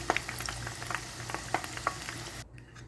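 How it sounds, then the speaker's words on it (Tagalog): Chicken pieces deep-frying in hot oil until golden brown give off dense, crackling sizzles and pops close by, which cut off abruptly near the end. "I-deep fry natin siya guys until golden brown"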